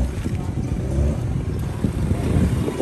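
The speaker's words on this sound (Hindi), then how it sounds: "so boys, this car is like hell loud" A loud, straight-piped Nissan Skyline 350GT engine rumbles and revs close by in a steady, heavy low roar, with some wind buffeting and faint voices mixed in.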